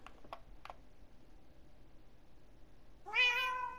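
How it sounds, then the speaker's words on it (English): A cat lets out a single clear, rising meow near the end, preceded by a few faint ticks and clicks in a quiet indoor room. "Jeff, meow if the cactus is lit."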